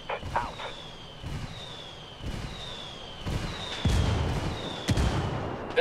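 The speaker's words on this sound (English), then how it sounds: "I called the rebels for some indirect fire" Indirect artillery fire called in by rebels in Ghost Recon Wildlands lands as a series of sharp distant booms and crackling bursts, with faint whistling streaks between impacts and no talking.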